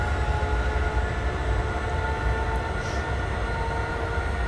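An S-Bahn train runs through the Leipzig to Bitterfeld route in Train Simulator 2020, a steady loud rumble of wheels and motor with continuous rolling noise and no pauses.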